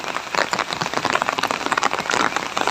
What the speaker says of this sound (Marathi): हिरव्यागार झाडावर पडणारे पावसाचे थेंब आणि थंडगार वारा